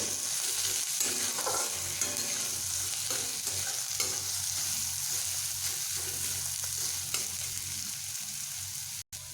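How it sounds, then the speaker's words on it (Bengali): Chopped onions hiss in hot oil in a pan, with a continuous sizzle and repeated light scrapes of a spatula stirring them, ending in a brief cutoff. "পেঁয়াজগুলোকে আমি হালকা বাদামি করে ভেজে নেব"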